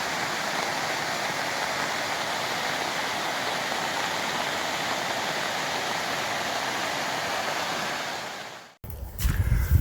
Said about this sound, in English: I could hear the Whitewater Rapids